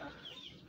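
A rooster recovering from feather-pecking by hens gives short clucking calls, close and fairly loud over a steady farmyard hum, alone with no talk.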